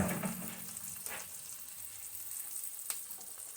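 Collard greens and jalapenos fry in a pan with a steady, soft sizzle close by. A few brief stirring scrapes break through it. No one talks.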